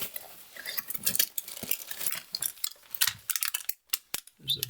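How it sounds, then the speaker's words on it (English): A small knife slices through packing tape on a cardboard box, with quick scraping and tearing strokes and light rustles of the box, close by and fairly loud. "I like to use a little knife to cut the tape"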